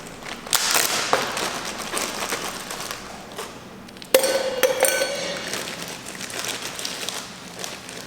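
Ice cubes clatter and clink into a glass, with a sharp knock midway, followed by lighter rattling and faint kitchen noise.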